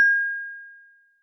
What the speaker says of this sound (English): we get a very kind of a pleasing sound, right? Not a bad little bell